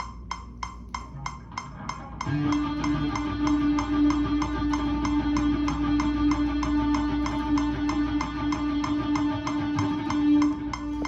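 Single guitar notes picked in a fast, even stream over a steady bass and beat, starting with a few sparse plucked notes before the backing enters.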